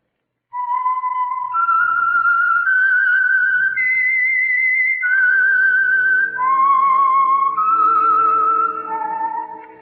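Opening whistle signal of The Whistler, an old-time radio mystery program: a lone, clear whistled melody that rises and falls in sustained phrases, loud and close, with no talking.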